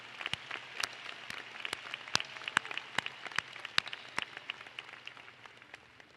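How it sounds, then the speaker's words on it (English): Scattered applause from a high school graduation audience, sparse individual claps ringing out over a soft crowd wash, moderately close and fairly quiet throughout. "Please join me in another round of applause for our commencement speaker"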